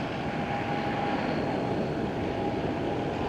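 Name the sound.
Emirates airliner passing at Schiphol airport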